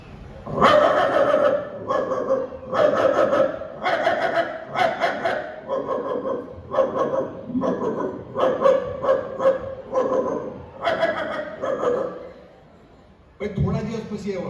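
A man mimics a dog's barking in a comic performance, with a long run of voiced bow-wow barks and yelps at close range, pausing briefly near the end before one more burst.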